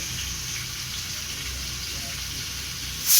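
Nigella seeds dropped into hot oil for tempering crackle and sizzle in a steady hiss close by, with a sudden louder burst at the very end.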